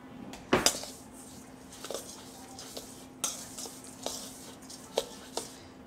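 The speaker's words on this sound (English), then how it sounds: "I'm just gonna mix that up real quick" Spoon stirring dry oatmeal cookie ingredients in a bowl, giving scattered clinks and scrapes against the bowl, with a couple of sharper knocks amid a faint background hum.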